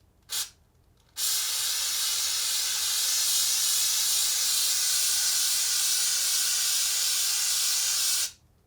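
An aerosol can of spray-on drywall coating fires one brief puff, then a long steady hiss of about seven seconds, close and loud, stopping abruptly, with no one speaking.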